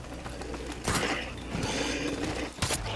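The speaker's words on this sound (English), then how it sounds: "I have to reload." Gun being reloaded in Advanced Warfare Zombies, with mechanical clacks and a sliding metallic rattle, two sharp bursts about a second and a half apart over steady game background.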